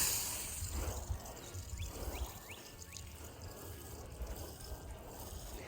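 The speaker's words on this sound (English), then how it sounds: "I'm going to go ahead and water again" Water pours onto soil in a small garden wall planter with a soft, steady splashing trickle, close by and fairly faint, with a few faint chirps in the background.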